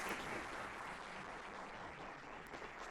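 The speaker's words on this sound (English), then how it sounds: "A huge round of applause." Audience applause fills a hall after a university alumni talk, a steady, even wash of many hands clapping that stays fairly faint and continuous throughout.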